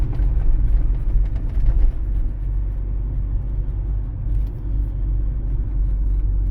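Steady low rumble of a car's engine and tires on the road during a driving exam route in Pereiaslav, loud and continuous with slight swells.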